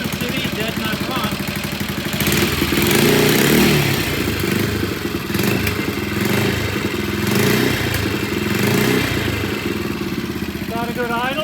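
Vintage British motorcycle engine ticking over at idle after repair, a close, steady rapid thumping beat with mechanical clatter and slight rises in revs, while someone talks over it.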